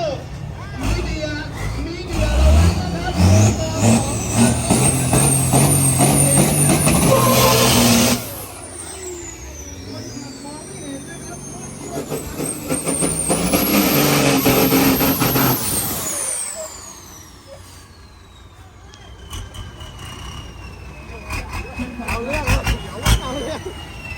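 Ten-wheeler trucks racing at the Ratchaburi track: loud heavy diesel engines roar and rev close by, with hissing air brakes and a crowd of voices chattering throughout, the noise dropping off midway before another truck surges past.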